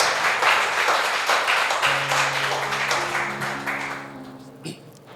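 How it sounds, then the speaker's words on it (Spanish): A church congregation gives a round of applause that starts strong and gradually fades, with a sustained organ or keyboard chord entering partway and holding underneath. "Fuerte el aplauso al Señor."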